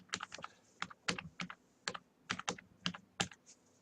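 Rapid clicking keystrokes on a computer keyboard, close and fairly quiet, coming in uneven bursts of a dozen or so taps with short pauses, no voices.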